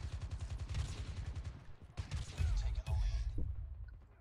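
Gunfire in the mobile shooter Call of Duty Mobile during a team deathmatch, with dense rapid bursts of shots, a brief lull, then heavier booming fire, loud and close throughout.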